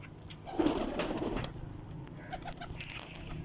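Pigeon cooing from fancy pigeons with pearl-like netted eyes, a soft throaty burst near the start that fades into quieter, scattered calls close by with no talking.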